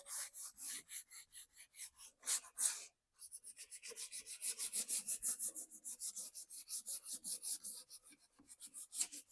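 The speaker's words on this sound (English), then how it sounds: "I want to do a little bit of distressing on this piece. So I'm just going to take 220 sandpaper." Rhythmic back-and-forth rasping of 220 grit sandpaper on chalk-painted wood furniture being distressed, close and steady with many quick strokes and one brief pause.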